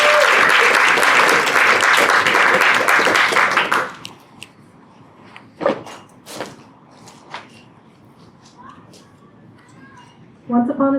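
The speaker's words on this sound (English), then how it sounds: "I need some very loud clapping, cheers, and hollops and all that for my very, very good friend, Phoenix!" An audience claps and cheers loudly for a friend named Phoenix, a dense burst of applause that cuts off after about four seconds, followed by scattered claps and quiet room noise, with a short swell of clapping returning at the end.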